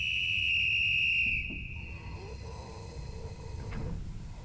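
A steady high whistle sounds for over a second in the video game Threshold, then cuts off into quiet ambient rumble with a faint later tone.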